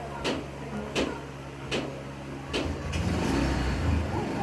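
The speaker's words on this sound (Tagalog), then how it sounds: "Pinakinggan yung tricycle." A motorized tricycle's engine runs nearby with a steady low rumble, punctuated by a few sharp clicks or taps, and it grows slightly louder toward the end.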